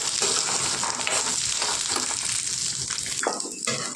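Peanuts and green chillies sizzle and crackle in oil in a pan for a peanut chutney, a loud, continuous frying hiss with occasional stirring scrapes close by.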